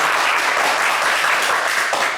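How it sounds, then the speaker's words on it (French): A studio audience on a French television game show breaks into sustained applause, dense and even clapping that fills the room throughout, with no voices over it. "On peut l'applaudir bien fort."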